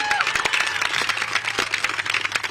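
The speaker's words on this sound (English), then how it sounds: "Let's give them a round of applause" Crowd at an outdoor ribbon-cutting for a new Austin pedestrian bridge and tunnel clapping together, a steady patter of many hands with individual sharp claps standing out, fairly close and sustained.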